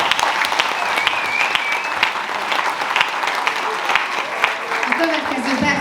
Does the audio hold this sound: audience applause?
yes